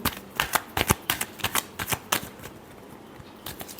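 Tarot cards are shuffled in a string of quick, crisp riffling snaps, loud and close, with a brief pause and a softer final flurry.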